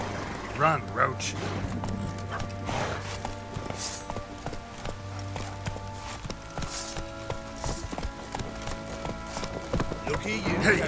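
Roach the horse galloping in The Witcher 3, rhythmic hoof clip-clops running under game music and a man's spoken lines.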